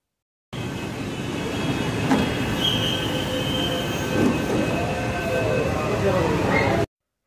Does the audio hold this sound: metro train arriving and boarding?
yes